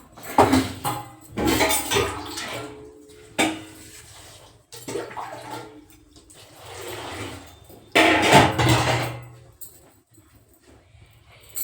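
Metal pots and a kadhai clank and scrape on a home kitchen stove in irregular bursts, with loud clatters separated by quieter pauses and some running water, close by and without talk.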